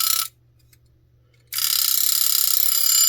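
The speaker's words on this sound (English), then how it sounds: "There goes the alarm." Westclox Baby Ben Style 1 luminous alarm clock ringing loud and close, a bright rapid metallic bell that cuts off briefly to near silence, then resumes in a sustained clattering ring.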